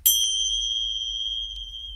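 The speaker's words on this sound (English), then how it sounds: "I just close with another bell" A single bell is struck to close a yoga class, a clear ringing ding with a long pure sustain that fades slowly and evenly, close to the mic and heard alone without talk.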